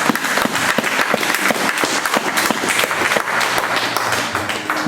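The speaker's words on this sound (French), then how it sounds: "Acclamons pour ça." A church congregation applauding during a sermon, loud dense clapping from many hands filling the room steadily throughout.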